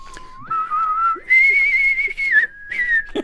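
A man whistles a melodic tune alone, sustained clear notes gliding between pitches in a steady musical line with brief pauses between phrases.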